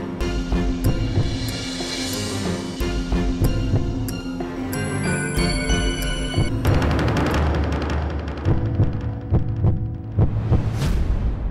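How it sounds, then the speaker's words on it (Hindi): Fast heartbeat sound effect in a Hindi TV comedy episode: a rapid, steady throbbing pulse layered with musical tones and hum, continuous and prominent throughout with no speech. "ये मेरे दिल के धड़कन की आवाज है जो तेज होती जा रही है"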